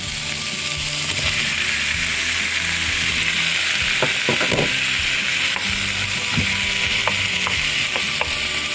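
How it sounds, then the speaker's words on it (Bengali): Fresh chopped tomatoes fry for butter chicken, a loud, dense, steady sizzle with scattered clinks and scrapes of a spoon stirring the pan. "এর মধ্যে দিয়ে দেবো আমি ফ্রেশ টমেটো কাটা"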